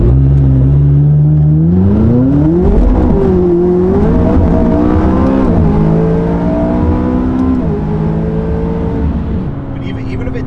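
McLaren 570S engine revving hard through repeated acceleration pulls, the pitch climbing and dropping with each shift, loud and close for the whole stretch.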